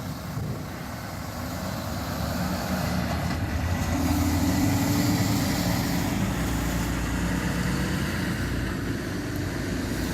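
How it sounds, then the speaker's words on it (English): A single truck tractor pulling two 53-foot trailers gives a low, continuous engine rumble that swells slightly midway as it moves past at moderate distance, with no voices. "This is one tractor that is pulling two 53-foot trailers."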